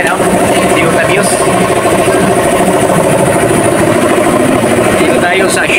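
A Toyota Vios with a dual VVT-i engine idles at a Shell service station, giving a steady, loud, close mechanical hum with faint rattling. A person talks over the engine.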